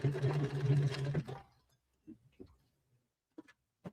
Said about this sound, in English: I'm going to do that extra row of stitching Kathy recommended.